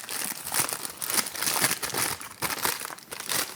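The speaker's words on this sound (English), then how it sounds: "So I crumple it up." Leftover parchment paper is crumpled by hand for lining a baking dish, giving loud, close, continuous crinkling and crushing in bursts with short pauses.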